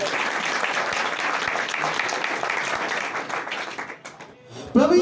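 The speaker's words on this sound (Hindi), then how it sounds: "ताली तो बजा दीजिए" Congregation applauding during a Christmas sermon, steady dense clapping for about four seconds that thins and fades out before a voice cuts in at the end.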